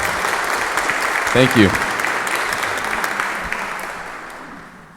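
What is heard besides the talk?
audience applause for a band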